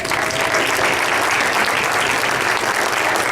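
A dense, steady wave of applause from an audience greeting Kentucky Governor Matt Bevin at an education event, filling the hall evenly throughout.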